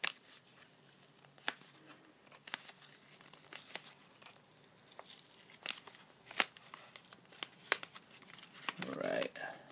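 Someone unwraps a manga giveaway package up close, with quiet sharp tearing and crinkling bursts scattered through the clip and soft talk in between.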